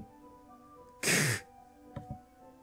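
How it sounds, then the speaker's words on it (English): A single short breathing gust from around a corner in the game Doki Doki Literature Club, a loud burst of breathy noise followed by two faint soft thumps over a quiet hum. "What's that noise? It's coming from around the corner. Sounds like breathing."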